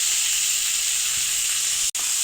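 Leaves coated in ground coconut paste drop into hot oil in a pan, giving a steady, loud hissing sizzle that holds throughout with one brief dropout near the end.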